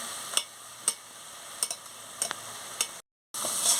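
A spoon stirs a potato, ivy gourd and pumpkin flower curry in a pan, with several sharp scrapes and taps over a faint, quiet sizzle, followed by a brief cut and a rising hiss.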